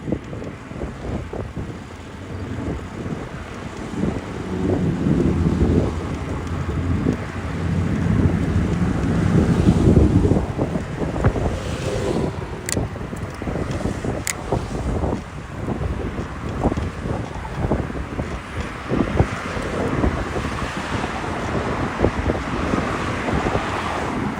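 Strong wind roars steadily against the microphone while cycling the Jamaica Bay Loop in New York City, a continuous loud rushing buffet with no talk.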